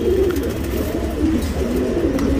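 Pigeon cooing from a good-quality male breeding pigeon, steady low throaty coos repeating close by throughout, with no talk.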